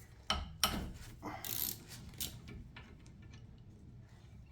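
Ratchet working loose rusty brake caliper bolts on a Mitsubishi Ralliart, with a few sharp clicks and uneven bursts of ratcheting heard close up against a quiet garage background, with no talking.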